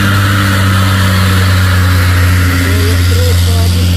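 A trailer truck's engine labours up a steep hill at Bukit Kodok, a loud, constant low drone that rises slightly in pitch, while people talk over it.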